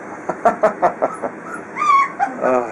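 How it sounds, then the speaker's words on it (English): A little puppy whimpers and yips in a quick series of short, close cries, with a longer drawn-out whine near the end. No one speaks. "I've never seen a little puppy growl so much."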